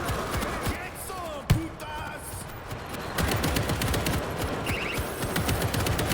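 Video game gunfire against zombie hordes crackles in rapid bursts and scattered shots, with one sharp loud crack early, under ongoing in-game noise and occasional talk.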